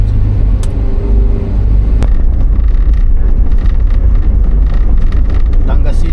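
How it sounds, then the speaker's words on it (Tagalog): Road traffic in Calamba on the TR4 route, heard from inside or beside a moving car: a loud, steady low rumble of engines and tyres with wind buffeting the microphone. "Lagi ng traffic dito eh."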